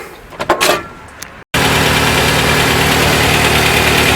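A 1968 Commer 2500 van engine, recently adjusted at the carburetor, runs steadily and loudly at close range after a brief sharp cutoff, with a constant droning rumble and a faint knocking undertone.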